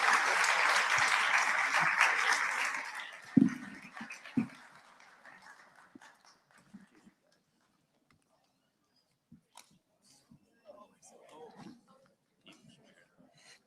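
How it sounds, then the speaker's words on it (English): Audience applause for conference panelists at a World Cup salon event, a dense burst of clapping that fades out after about four seconds, followed by scattered faint handling noises and near-silence. "Give one more round of applause for the panelists, please."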